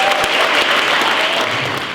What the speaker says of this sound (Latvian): Tas ir aplausu vērts.